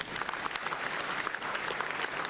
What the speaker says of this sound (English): Clap for our brother there.